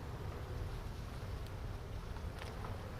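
Wind blows steadily outdoors during a beehive inspection, a continuous low rumble and buffeting across the microphone with no speech.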